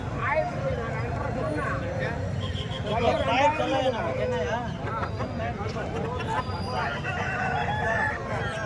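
Roosters crow loudly and repeatedly nearby at a large poultry market, their calls overlapping with hens clucking and people talking in the background.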